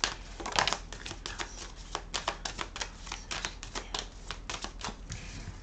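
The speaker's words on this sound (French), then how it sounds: "je vais tirer deux cartes de l'oracle et des miroirs" Oracle cards are drawn and shuffled from a deck during a tarot-style reading: a steady run of quick, close, crisp card flicks and taps in uneven rhythm, moderately quiet, with no speech.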